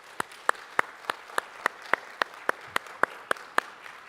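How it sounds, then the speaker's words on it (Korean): A single steady, rhythmic clap at the Korean church's Saturday dawn service, sharp even beats roughly three per second, moderately close against a faint room hush, while the congregation thanks the worship team. "우리 트루 월시퍼 팀에게 우리 감사의 박수 한번"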